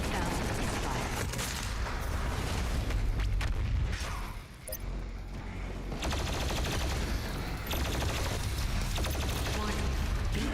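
Heavy weapon fire from the BFG 10,000 in DOOM Eternal on Nightmare difficulty: a loud, continuous barrage of blasts and booms with a brief dip near the middle before the din resumes.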